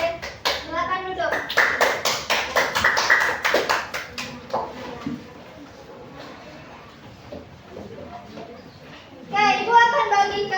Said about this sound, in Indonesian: tepuk tangan untuk kelompok energi listrik